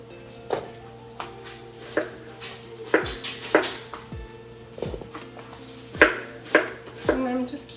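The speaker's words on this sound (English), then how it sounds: "So I'm just going to keep chopping here." A knife chops and cubes butternut squash, delicata squash and celery on a cutting board, giving a dozen or so crisp, irregular thuds close by, some landing in quick pairs.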